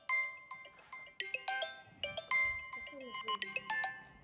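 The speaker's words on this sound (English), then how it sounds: "my phone is ringing" A mobile phone rings with a bright, repeating electronic ringtone melody, playing steadily and fairly prominently throughout, with faint background voices.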